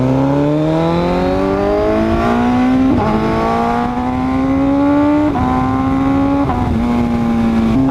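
A loud aftermarket exhaust on a car rises in pitch through each gear, then drops sharply at two or three quick upshifts, the engine note close, constant and unbroken.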